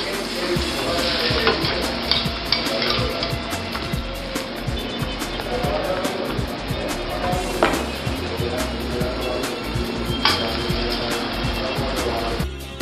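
Dressing reducing in a hot pan on a cooking show, a steady close sizzle and frying crackle running throughout with occasional clinks, no talk over it.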